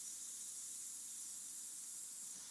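Spray paint hissing steadily from an aerosol can or sprayer while firewood is painted with flame colours, a close, continuous airy hiss with no break and no talk.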